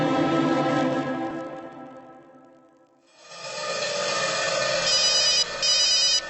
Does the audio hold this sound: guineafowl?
no